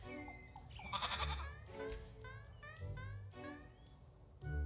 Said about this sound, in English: That stupid ass creepy goat